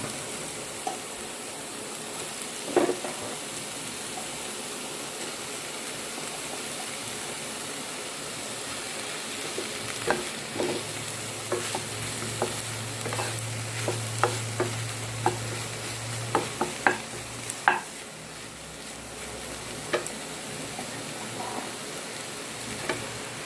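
Mushroom pieces cooking in a pan without oil, stirred now and then, giving a steady soft hiss broken by scattered clicks and scrapes of the spoon, with a low sizzling hum rising mid-way.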